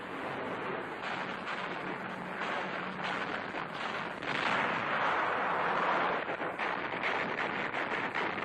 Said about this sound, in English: Anti-aircraft fire fails to stop them.